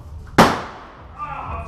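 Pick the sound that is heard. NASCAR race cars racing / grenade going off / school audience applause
grenade going off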